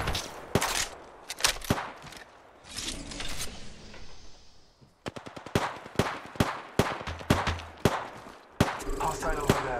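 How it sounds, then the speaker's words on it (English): Video game gunfire comes in rapid bursts at the player, with sharp automatic volleys and single cracks. Loud, close shots cluster together, followed by a quieter rumbling lull and then more shooting. "I'm getting shot at"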